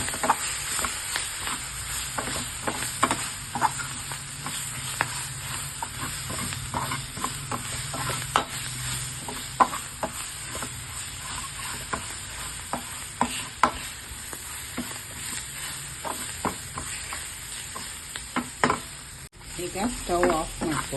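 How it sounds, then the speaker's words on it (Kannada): Cumin powder and a pinch of turmeric fry in a pan for a methi paratha, with a continuous soft sizzle and frequent scraping stirs of a spoon against the pan, close and steady, with no talking. "ಇದನ್ನೆಲ್ಲ ಫ್ರೈ ಮಾಡ್ಕೊಳ್ಳೋಣ."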